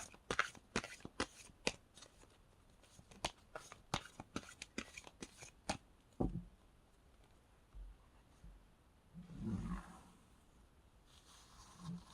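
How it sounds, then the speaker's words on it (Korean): Tarot cards are shuffled and snapped in a quick run of crisp, close slaps and riffles, then cards are drawn with a few soft rustles and a muffled thump, all fairly quiet. "먼저 여러분의 관계 상황을 나타내는 4장의 카드 뽑도록 하겠습니다."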